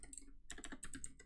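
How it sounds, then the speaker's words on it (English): Code typed on a computer keyboard while solving a Java coding problem, quiet close key clicks in quick uneven bursts with a short pause. "So let's stop talking and just keep typing."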